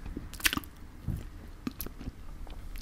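Close-up eating of sausages and mashed potatoes, with soft wet chewing and occasional crisp bites repeating irregularly, near and quiet, with no talking.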